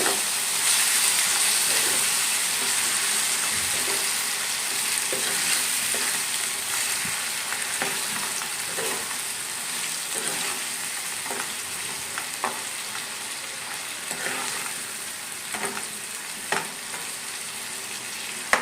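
Grated raw mango tempering sizzling in hot oil over a medium flame for mango rice, a continuous close crackle and hiss with occasional stirring scrapes throughout.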